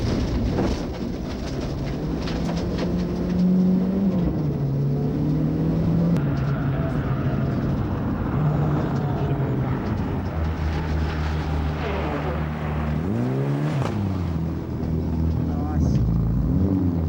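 A Mitsubishi Lancer Evolution 3 rally car from the South Australian Rally Championship driving hard, its engine droning loud and close with rising and falling pitch as it shifts through gears, under a continuous talking voice.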